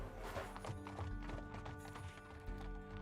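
Horse hooves clip-clop in the video game Six Ages, a quick steady trotting rhythm over a sustained musical background, moderately faint.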